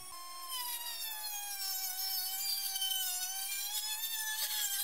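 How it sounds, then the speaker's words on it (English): A Dremel rotary tool with a diamond cutting wheel slices through a carbon fiber rocket tube, giving a steady high-pitched whine with layered tones that holds for several seconds, close and continuous, with no talk. "We are now using a Dremel with a diamond wheel to cut through the carbon fiber instead of a hacksaw."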